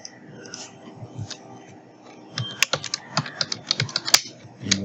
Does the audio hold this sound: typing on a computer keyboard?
yes